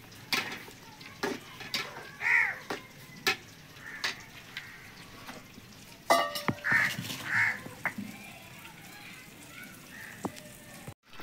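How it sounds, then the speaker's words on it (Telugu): Prawns stirred in a frying pan for prawn curry: a spoon scrapes and knocks against the pan in irregular strokes over a soft sizzle, close up. "రొయ్యలు బాగా కలపెట్టుకోవాలి."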